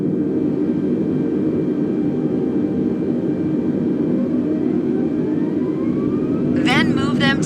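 Airbus A320 engines spool up for takeoff, a steady loud jet roar with a whining tone that climbs gradually in pitch, and a voice speaks briefly near the end.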